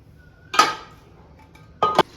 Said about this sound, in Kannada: ಈಗ ಮುಚ್ಚಾಕ್ತಾ ಇದ್ದೀನಿ ನಾನು.